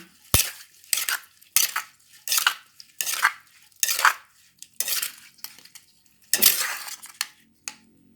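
Cucumber salad with fish sauce being stirred and pounded in a bowl, a series of about a dozen sharp, close utensil clacks and scrapes at an irregular rhythm, with no voices.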